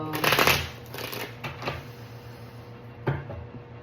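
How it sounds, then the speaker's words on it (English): A tarot card deck is shuffled up close, a dense riffle burst near the start followed by lighter slides and taps, with one more crisp flick toward the end; no talking. "One more shuffle."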